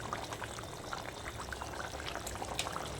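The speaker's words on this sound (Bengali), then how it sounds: "ঝোল আমার ভালো মতোই ফুটে এসছে।" Fish curry gravy for chitol macher muitha bubbling in a covered wok, giving a steady, close, busy boiling burble with scattered soft pops throughout and no talk.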